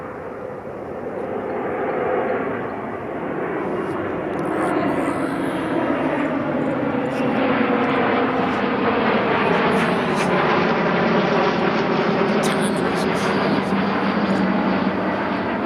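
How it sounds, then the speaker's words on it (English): Airplanes dropping off skydivers fly overhead, a loud continuous engine drone that swells and holds for the whole stretch without pause. "I must have caught them right at the time where all the planes is dropping people off, because they're literally all coming in this way"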